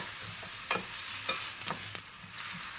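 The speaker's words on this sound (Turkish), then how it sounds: "hafifçe soğanlarımız kavrulsun" Steady frying hiss from onions sautéing in olive oil in a pan, with a few scraping stirs cutting through at irregular moments; no voices.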